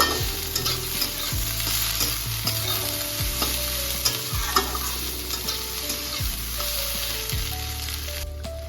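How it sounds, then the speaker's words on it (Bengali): Prawn paste with chopped coriander leaves frying in a pan, loud continuous sizzle broken by repeated rhythmic scrapes of a spatula stirring against the metal, with no voices. "এবার আর একটু ভালো করে নাড়াচাড়া করব।"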